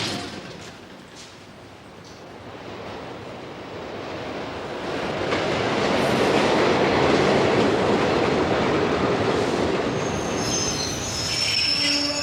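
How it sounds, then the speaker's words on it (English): A New York subway train rumbles through a dark underground station in 1985, its roar building to a loud steady rush with squealing wheels on the rails near the end. "takes the subway down"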